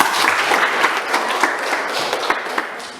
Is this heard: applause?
yes